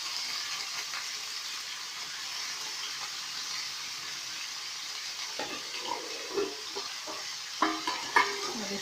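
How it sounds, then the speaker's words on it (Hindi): Chopped pumpkin pieces sizzle steadily in hot oil with green chilies in a pan, with a few soft scraping stirs and clinks near the end. "उसके बाद आप ये कद्दू के कटे हुए पीस डाल दीजिए"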